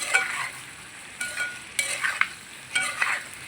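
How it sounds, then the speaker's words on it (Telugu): A spoon stirs chicken curry seasoned with salt and turmeric in a pan, giving several distinct scraping strokes over a soft sizzle, close and fairly quiet. "సాల్ట్ వేస్తున్నాను కొంచెం లైట్గా పసుపు కూడా వేస్తున్నాను ఒకసారి తిప్పుకుందాం"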